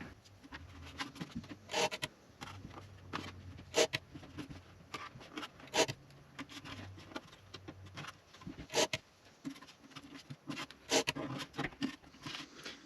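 An ebony guitar binding strip is marked up by hand, with quiet, irregular rubbing and scratching strokes and small taps on wood, close and faint, with no talk.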